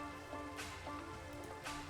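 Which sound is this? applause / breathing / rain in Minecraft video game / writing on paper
rain in Minecraft video game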